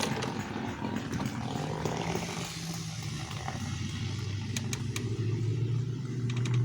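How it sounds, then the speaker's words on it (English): A truck drives past in front of a house, its engine a steady low rumble that swells slightly toward the end, with faint road noise throughout. "I thought I heard a car in front of my house"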